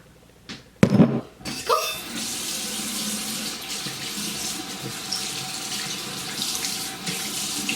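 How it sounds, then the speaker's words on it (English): Tap water runs steadily from a bathroom faucet during a nighttime face wash with a gentle cleanser, a continuous close splashing hiss after a few sharp knocks and clatters at the start. "So now we're gonna wash our face."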